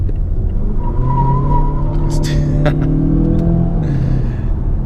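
A turbocharged 2018 family sedan pulls hard in second gear on a hot day, engine droning loudly and steadily while the front tires spin and chirp, with a brief higher squeal partway through.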